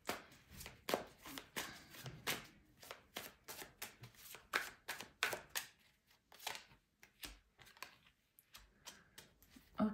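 Tarot cards shuffled by hand, quietly, in a long irregular run of crisp riffles and soft slaps with short pauses between bursts, close and alone.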